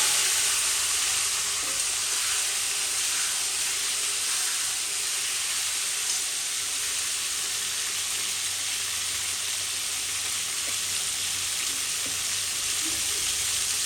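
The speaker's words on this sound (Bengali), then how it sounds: "এখন একসাথে ভেজে নিচ্ছি আমি আলু পটল।" Potatoes and pointed gourd fry together in hot oil in a pan, a steady loud sizzle with constant crackling hiss and occasional stirring pops, no voice over it.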